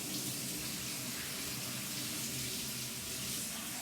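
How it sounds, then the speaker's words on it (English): Cold water runs steadily from a kitchen tap into a jug, a continuous bright splashing hiss, close and alone. "pour off some cold water from the tap."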